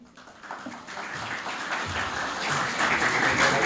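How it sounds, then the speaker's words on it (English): A conference audience breaks into applause to welcome a speaker; the clapping starts thin and swells into a dense, building wash that grows louder toward the end. "With a huge round of applause"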